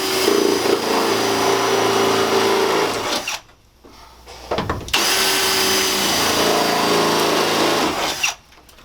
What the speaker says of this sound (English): After you set the first one, go ahead and drill all of them out.